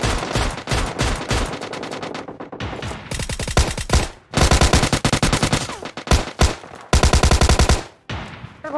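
Gunfire rings out in a shooting video game, with rapid automatic bursts and scattered single shots in loud, close, repeated volleys separated by short pauses.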